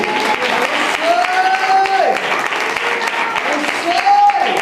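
During a Sunday church service, a congregation claps in a quick, rhythmic pattern; the sharp claps sound close and steady, and someone talks over them.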